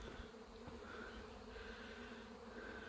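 A bee swarm clusters in a pine tree, making a steady, faint buzzing hum from some distance that drones on without a break and with no one speaking.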